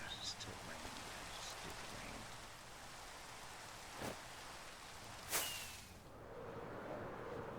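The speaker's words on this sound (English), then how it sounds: "Still rain." Steady rain falls in the Minecraft world on the 2b2t server, a soft continuous hiss with a couple of brief louder bursts near the end, and faint talk underneath.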